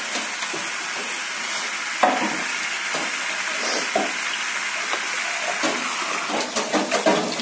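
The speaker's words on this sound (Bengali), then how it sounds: "জলটা দিয়ে দিলাম।" Water poured into a pan of shrimp curry frying in oil, a steady broad hiss and sizzle with brief splashing bursts and a cluster of bubbling pops near the end.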